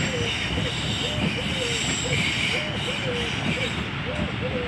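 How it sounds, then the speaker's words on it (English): A Class 450 electric train at Fratton station runs past with a steady rumble and hiss and repeated wheel or brake squeals; someone talks over the passing train. "Anyway, here's our first train."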